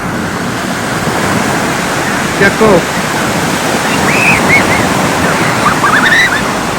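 Sea surf rolling onto the shore at Knokke beach, Belgium, a steady broad wash of breaking waves with wind across the microphone, while people talk and call out briefly over it.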